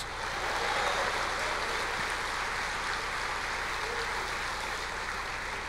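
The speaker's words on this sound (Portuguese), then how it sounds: "Eu quero ver o povo aplaudindo o Senhor, dizendo glória a Deus." A church congregation applauds the Lord, a dense, steady wash of many hands clapping at once that carries on evenly and fairly loud throughout with no talking over it.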